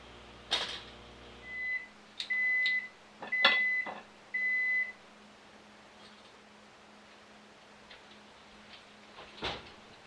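A microwave oven heats a breakfast egg dish with a low, steady hum throughout, broken early by a cluster of short, sharp electronic beeps and a couple of clunks like a door or lid.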